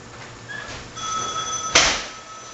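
A telephone rings in a car workshop, a short electronic tone followed by one louder burst, heard nearby over quiet room noise.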